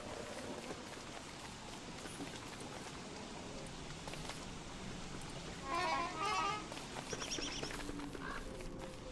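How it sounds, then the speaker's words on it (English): Soft, steady rain patter from the video game Don't Starve Together, a faint continuous hiss with a brief brighter chime-like burst partway through. "apparently there's some sort of rain effect on my person now"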